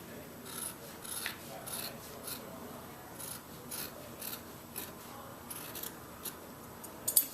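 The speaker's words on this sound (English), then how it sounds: "I bet you cut better this way. But the scissors are a little dull anyway." Dull scissors slicing through fabric laid out along a sewing pattern, a faint, steady series of soft rasping snips repeating close by with no talk.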